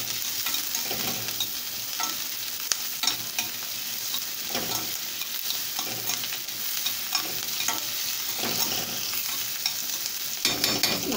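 Chopped onion frying and being stirred in a pan while cooking village-style liver, a steady close sizzle with repeated scraping stir strokes throughout, no talking.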